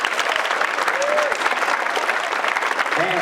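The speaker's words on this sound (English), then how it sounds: "Give them another round of applause." An audience at a school band concert claps in sustained, even applause that fills the room, with a few faint voices mixed into the crowd.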